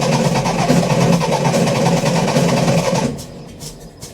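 A 73-year-old VW Beetle Zwitter engine rumbling loudly with a rough, uneven beat, then abruptly dropping away after about three seconds and leaving faint clunks and handling noises.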